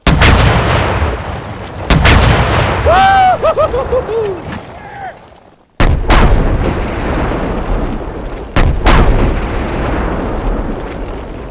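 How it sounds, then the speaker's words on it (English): A high-explosive RPG rocket is fired and blasts into a wall, giving loud sharp booms and cracks with rumbling aftermath, a rising whistle-like tone between blasts, and several more heavy impacts outdoors; voices talk during the sequence. "So let's go get the actual high explosive rocket. Let's do it. Let's blow up a wall."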